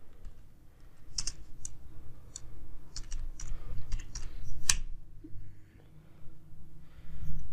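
Fingers type text on a computer keyboard in short irregular bursts of crisp, close clicks, with brief pauses between them and a low background hum.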